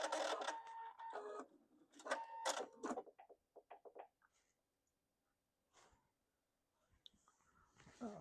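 A sewing machine stitching a quilt top whirs in short mechanical bursts up close, stopping and starting with quiet pauses between runs.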